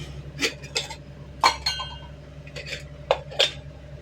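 A biryani pot is covered with its lid on a stove as water boils. Several sharp metallic clanks and clinks land in irregular bursts over a low steady hum, close and fairly loud.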